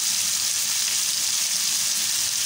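Beef tendon and tofu stir-fry sizzling in a hot pan while being stirred, a loud, steady, dense hiss of frying that continues throughout without speech.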